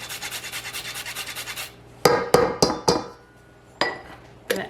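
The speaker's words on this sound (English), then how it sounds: "and use a microplane grater" Whole nutmeg rubbed across a microplane grater in quick, even rasping strokes for two seconds, followed by several sharp metallic taps and clinks spaced out, close and loud, without talking.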